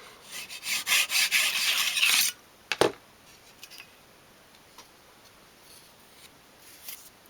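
Small saw cutting wooden dolls house skirting held in a mitre block: about two seconds of rapid, close rasping strokes, then a couple of faint knocks and near silence.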